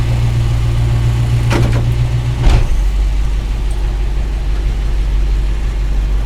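A car engine runs in gear while the stationary car creeps slightly, a loud steady low rumble with a brief mechanical clunk partway through and no talking.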